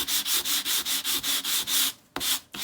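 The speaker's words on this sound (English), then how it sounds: "I just edge up the edges, or sand up the edges" The edges of a paper planner bookmark are sanded in a steady series of about ten rhythmic, close scraping strokes, followed by a brief pause and a couple of quick final rubs.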